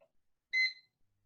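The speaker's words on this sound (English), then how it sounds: "There, you hear it? It's beeping." A single short electronic beep sounds once, clear and bright against near silence.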